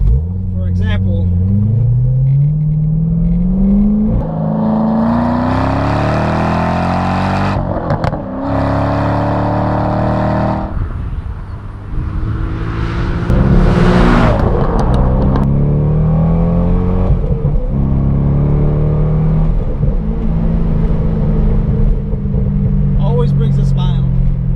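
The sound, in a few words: C6 Chevrolet Corvette V8 accelerating under throttle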